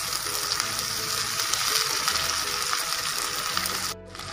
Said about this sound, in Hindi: अब हम इसमें अदरक लहसुन का पेस्ट ऐड कर देंगे, जो हमने 1 चम्मच लिया था, उसको भी हम प्याज के साथ ही भून लेंगे